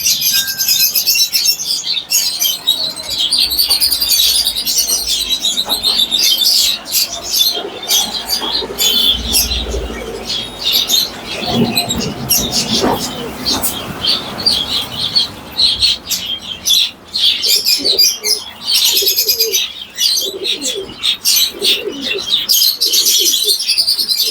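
Pigeons coo and assorted caged birds chirp and tweet continuously at a busy bird market in Bamongachi, with occasional wing flapping and bright overlapping calls throughout, fairly close and dense, with little talk.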